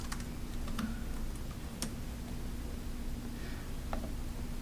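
Typing on a computer keyboard, heard as sparse, faint keystrokes, a few sharp taps spread over several seconds above a steady low hum, with no talking.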